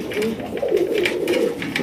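Pigeons coo in a loft, a pair of Raj Golla birds with matching markings calling together, steady throaty rolling coos repeating close by with no talk over them.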